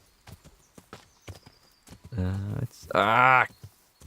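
A horse is ridden in the medieval video game Kingdom Come: Deliverance, its hooves clip-clopping in a sparse, uneven rhythm close by. The horse whinnies loudly twice near the end, and someone speaks over parts of it.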